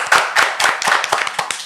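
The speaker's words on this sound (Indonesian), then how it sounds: "Kita kasih tepuk tangan dulu." A studio audience at a talk show claps in brief, fairly close, rhythmic bursts of hand claps with little talking.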